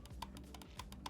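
Plastic shell of a lightweight Corsair device creaking under hard finger pressure, a series of short, sharp clicky crackles at an irregular rhythm, close and fairly quiet.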